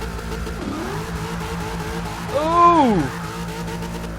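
In Forza 6, a 5-litre Fox Body Mustang drift car rumbles at idle, then revs hard with rising engine tones and tire squeal during a launch; a voice exclaims briefly over it.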